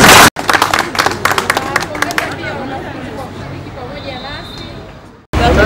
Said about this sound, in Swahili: Jipigie makofi mengi sana